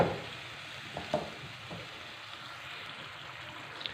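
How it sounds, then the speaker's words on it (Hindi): Chicken for Afghani karahi fries over a medium-low flame, giving a steady soft sizzle and hiss with a few faint clicks of stirring, moderately quiet and without talk. "इसको अच्छी तरह भून लेंगे। 3 से 4 मिनट के लिए हमने इसे मीडियम लो फ्लेम पे भून लेना।"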